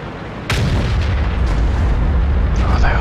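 Big tank guns firing in a tank combat video game, a loud sudden cannon blast followed by a long rumbling roar and further distant booms, with no talk over it.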